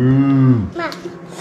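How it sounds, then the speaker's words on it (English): A single long, low moo drawn out and falling in pitch, followed by brief soft voices. "Cow."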